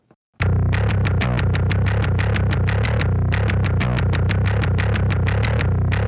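Dense low-end music, heavily compressed through a Fairchild 660 and distorted by Amp Farm amp simulation, pounds with a fast, driving repeated pulse, loud and constant from start to finish.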